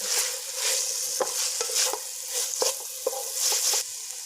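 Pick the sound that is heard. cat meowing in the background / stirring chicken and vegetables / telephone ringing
stirring chicken and vegetables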